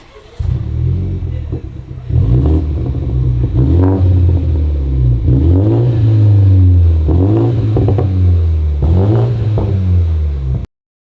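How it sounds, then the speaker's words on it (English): BMW 330i fitted with an AWE exhaust is revved repeatedly, several loud, close throttle blips rising and falling in a throaty rumble, with no talking. "we're gonna rev it for you, let you guys hear what it sounds like with just the exhaust"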